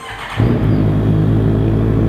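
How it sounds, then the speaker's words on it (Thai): A 2018 Honda CB650F motorcycle fitted with an Akrapovic-style slip-on exhaust fires up after a brief moment of quiet, then settles into a loud, deep, steady rumbling idle close to the listener. "คันนี้เป็นท่อแต่งครับ ทรงอะคาพิกแบบสลิปออนมาฟังเสียงท่อคันนี้กัน"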